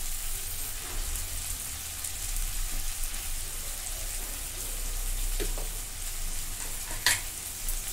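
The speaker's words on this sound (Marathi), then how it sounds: "आता हे परतून घेते" Garam masala, ground coriander-cumin and finely chopped mint sauté in a kadhai for pulao, giving a steady, rain-like sizzle with a low hum underneath and a few stirring scrapes, one sharper near the end.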